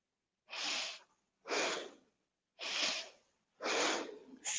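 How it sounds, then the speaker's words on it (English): Four rhythmic, forceful breaths through the nose and mouth, sharp sniffs and blows in a yoga breathing exercise, each burst about half a second long with short pauses between, close and fairly loud, no talking. "Sniff and blow."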